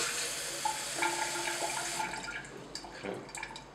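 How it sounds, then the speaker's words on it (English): Hot water poured into a beaker while mixing powder developer, a steady splashing pour running for about two seconds before thinning into trickles and a few small clinks. "pour it into the beaker"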